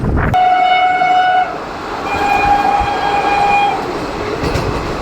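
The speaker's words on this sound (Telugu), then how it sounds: "మన ట్రైన్ వచ్చేసండి టర్నింగ్ మీద టర్నింగ్ పడుతుందండి." The Simhadri Express (Visakhapatnam–Guntur) arriving at a station, a loud close horn blast in two long tones over the steady rumble of the rolling train.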